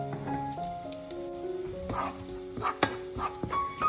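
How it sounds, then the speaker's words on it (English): Baby potatoes and soya meat being sautéed at low heat with curry spices, a soft continuous sizzle with scattered spoon scrapes and clicks, close and quiet, with faint background music tones and no talking. "Saute at low heat to avoid burning."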